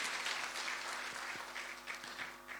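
An audience applauds at a televised news channel stage event featuring a deputy chief minister and home minister, steady dense clapping from a crowd that holds at a moderate level and slightly swells toward the end.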